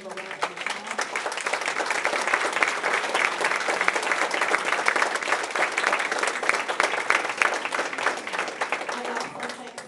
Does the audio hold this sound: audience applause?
yes